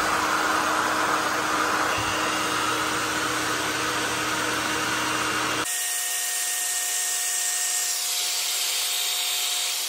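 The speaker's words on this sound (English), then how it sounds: "And now I will go for this hairdryer on high." A hairdryer set to high runs as a steady broadband whoosh with a constant tonal hum, powered from a Bluetti AC500 inverter under a load test; partway through the airflow noise shifts character and thins out, but a continuous whine carries on to the end.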